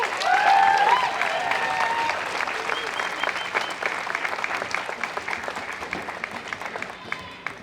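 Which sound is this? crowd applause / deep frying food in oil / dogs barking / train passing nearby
crowd applause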